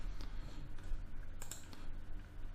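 A few soft computer keyboard key presses and clicks sound close and quiet during Adobe Photoshop editing, with faint room noise between them.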